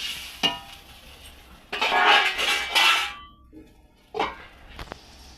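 Metal pot lid set down and shifted over a cooking pot of potato and koi fish curry, a few close clanks and scrapes separated by short gaps, with no voices.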